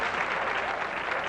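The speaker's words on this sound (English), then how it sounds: "And applause for that late help." Bowling crowd at the 1983 PBA King Louie Open clapping for a converted spare, a brief steady burst of dense applause with no voices over it.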